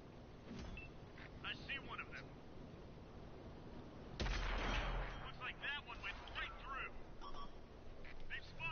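A single heavy tank cannon shot booms out midway through a World of Tanks battle, rising above steady engine rumble and ambient noise, with someone talking over the scene.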